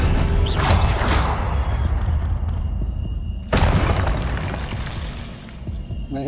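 Spell-casting effects in the Hogwarts Legacy video game: booming magical blasts with crackling, shattering bursts, two strong impacts standing out over a dense rumbling background of combat.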